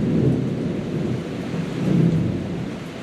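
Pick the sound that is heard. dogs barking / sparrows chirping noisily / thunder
thunder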